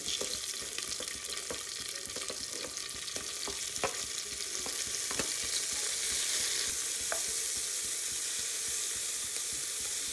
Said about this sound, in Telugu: ఇప్పుడు టమాటా వేసుకుందాం